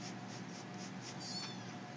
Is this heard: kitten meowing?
yes